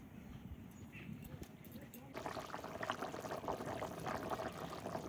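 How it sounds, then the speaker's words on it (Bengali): Water is poured into fried vegetables in a cooking pan, and a sudden sizzling, bubbling rush sets in and holds steady. A quiet background hiss comes before it. "সবজি ভালো করে ভেজে নিয়েছি, এবার জল দিয়ে দেবো"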